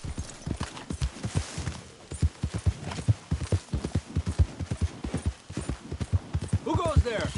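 A horse galloping in Red Dead Redemption 2, with rapid, rhythmic, close hoofbeats pounding steadily throughout and a short whinny near the end, a voice speaking briefly over it.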